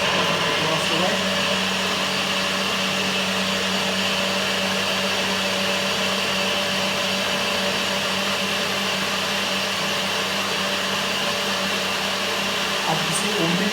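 A blender whirs steadily as it blends a homemade vegan banana and almond butter protein shake, a loud, unbroken motor drone running the whole time with no change in pitch.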